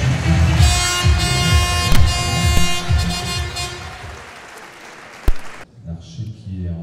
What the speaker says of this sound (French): les encouragements et les applaudissements du public